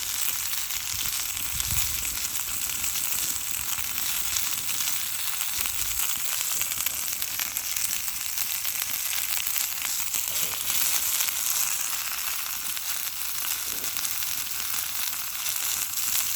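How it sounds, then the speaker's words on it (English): Burgers and onions fry over a campfire in a steady, continuous sizzle and crackle, close and even throughout with no talking. "but you can hear it sizzling"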